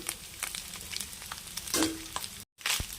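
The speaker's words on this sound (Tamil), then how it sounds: "சாதத்தோடு சேர்த்து நல்லா கிளறிக்கலாம்." Cooked rice being stirred with ground peanut powder and curry leaves in a hot pan, giving a steady scraping sizzle with scattered spoon scrapes and a short pause before the stirring resumes.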